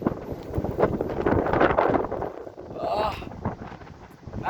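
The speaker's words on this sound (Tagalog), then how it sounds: "Nice kay hangin diri" Gusty wind buffets the microphone in heavy rumbling bursts at Al Bidda Park in Qatar, with faint voices partly buried beneath it.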